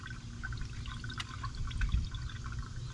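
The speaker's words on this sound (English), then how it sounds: "I'm going to carefully pour this liquid moly engine flush in" Liqui Moly engine flush is poured into the engine of an Audi S7 4.0T during an oil change, making a faint, steady trickle with light gurgling and dripping over low background noise.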